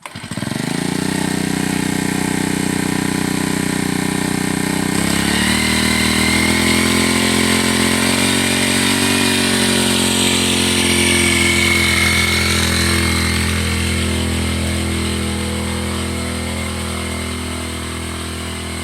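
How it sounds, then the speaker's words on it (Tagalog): Engine-driven knapsack sprayer running nonstop at close range, a loud buzzing two-stroke drone that rises in pitch after a few seconds and holds steady, alone without talk. "So we use this engine driven na knapsack sprayer, no?"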